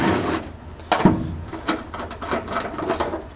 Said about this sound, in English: you're just going to take it and back the bolt out